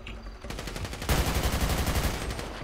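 Gunfire in GTA 5 roleplay: a burst of rapid automatic shots, then a louder, denser sustained volley of machine-gun fire, close and loud.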